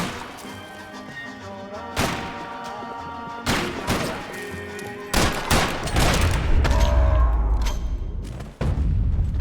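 Video game Max Payne 3 firefight: repeated loud gunshots and bursts of fire with crashing impacts and booms, dense and close, under tense game audio with no talking.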